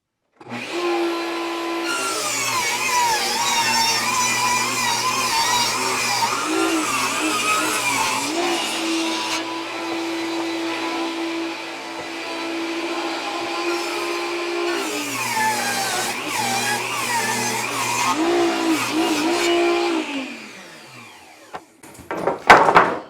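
A power saw rips through wooden wall studs in a long, steady whine lasting about twenty seconds, with pitch dips as the blade loads, before spinning down to a close clatter; no talking.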